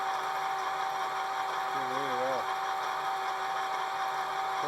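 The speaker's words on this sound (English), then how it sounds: "sorry for the noise, but it's an old machine." A steady mechanical whine and hum of an old lathe running, constant tones with a brief wavering pitch in the middle, fairly quiet.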